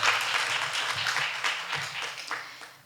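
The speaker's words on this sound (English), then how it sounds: "A round of applause. And even one more." Brief, moderately loud applause from an audience at a Nigerian diaspora organization's gathering, a dense patter of clapping that gradually tapers over a few seconds.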